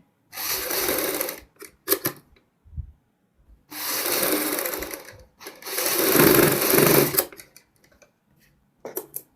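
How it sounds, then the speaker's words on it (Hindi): Sewing machine stitching the front neck of a kurti runs in several bursts of a few seconds each, separated by short pauses and faint clicks, close and clear with no talking. "नोक निकालने के बाद दोस्तों हम यहाँ पे सेम एक साइड सिलाई लगाएंगे।"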